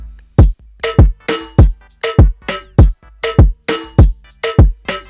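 Aggressive moombahton drum loop programmed in FL Studio: punchy kicks and snappy hits in a steady syncopated pattern, about ten strong beats over five seconds, loud and dry with no voice.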